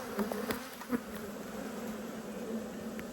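Honeybees buzz steadily at close range throughout an apiary hive inspection, a continuous droning hum with a few louder passes as individual bees fly near.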